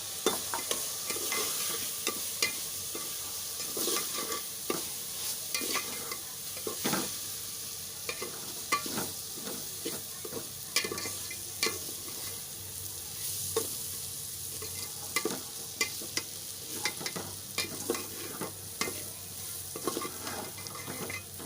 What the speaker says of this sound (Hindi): और अब इसमें हम ये डाल देंगे दलिया, इसे भी हम भूनेंगे साथ में ही।